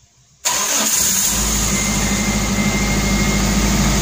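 A Suzuki Zebra Espass car engine, cold after sitting idle in a garage, cranks briefly and catches, then settles into a loud, steady, close idle that runs on without pause.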